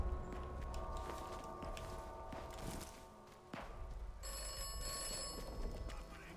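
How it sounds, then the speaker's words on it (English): Ringing phone in the Atomfall video game trills in two bursts over a busy background of footsteps and ambient game noise, moderately loud and somewhat distant. "Another ringing phone."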